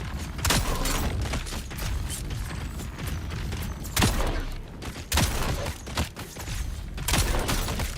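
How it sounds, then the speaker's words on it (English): Guns firing in the sci-fi survival game Dune Awakening, a handful of sharp separate shots cracking out at irregular gaps over a busy mechanical background, fairly quiet overall and without any voice. "I missed all my shots."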